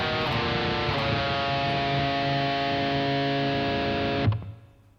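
Heavily distorted electric guitar plays measure six, a loud sustained chord ringing for about four seconds before being abruptly cut off and fading.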